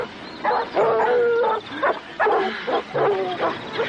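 Tracking dogs searching open fields in a movie scene bark and yelp in a rapid, overlapping series, fairly loud and close, with a faint background.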